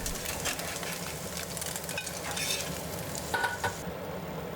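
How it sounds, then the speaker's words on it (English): Tofu pan-fries in oil over medium heat, a steady bright sizzle and crackle close up, with a few soft clinks near the end and no talk. "pan-fry tofu on medium heat until they are golden on both sides"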